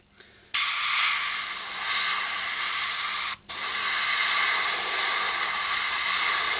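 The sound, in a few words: spray painting over masking tape on a saw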